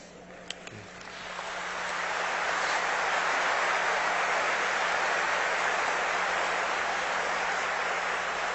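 Applause from a church congregation builds quickly after a second into sustained, loud, dense clapping that fills the hall and holds steady to the end.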